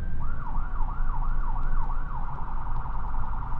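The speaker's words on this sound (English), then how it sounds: "I hear sirens." A wailing emergency siren in the VR horror game The Exorcist Legion VR, rising and falling in a regular rapid cycle over a low rumbling background, steady and fairly close with no talk.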